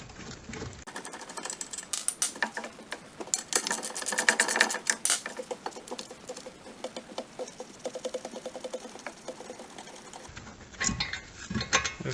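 Ratchet working loose a front brake caliper carrier bolt on a 2011 Cadillac CTS, giving a fast, steady clicking that runs for several seconds at moderate loudness with faint mechanical rattles.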